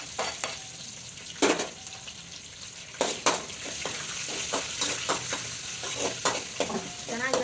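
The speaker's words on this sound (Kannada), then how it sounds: "ಮೆಣಸಿನ್ಕಾಯಿ, ಈರುಳ್ಳಿ ಎರಡು ಹಾಕ್ತಾಯಿದ್ದೀನಿ." Green chillies and onions fry in hot oil in a pan, giving a loud, continuous sizzle broken by several sharp bursts and the scrape of stirring.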